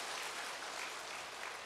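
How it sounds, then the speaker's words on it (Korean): Applause from a church congregation, a steady, soft and somewhat distant wash of many hands clapping briefly. "두 분 위에서 박수 한번 쳐주시죠."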